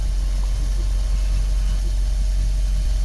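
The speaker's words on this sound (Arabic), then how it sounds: "المراوح شغالة وشغالة بسرعة عالية،" A car engine idles with its radiator cooling fans running at high speed despite a cold engine, heard as a loud, steady, close drone with a constant broadband whoosh and no talking.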